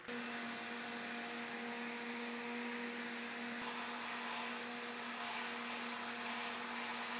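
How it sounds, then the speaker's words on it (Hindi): A blender crushes ice into a mint margarita, giving a steady, loud whirring motor roar with a low hum that runs unbroken for the whole stretch, with no voices. "बर्फ़ डाल के इसको दोबारा से अच्छी तरह ब्लेंड करें"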